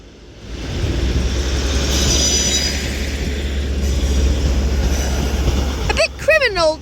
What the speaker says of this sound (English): 150-116 is heading to Rose Hill Marple, and then 156-414 departs for Hazel Grove